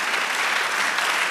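A church congregation applauds, a dense, even wash of clapping that holds steady and close for the whole short stretch, with no voices standing out.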